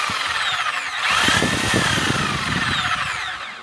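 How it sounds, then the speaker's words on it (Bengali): An electric drill whirs continuously, its motor pitch rising as it spins up and holding a steady high whine, loud and near. "আমাদের ড্রিল মেশিনটি কিন্তু এখন চলতেছে।"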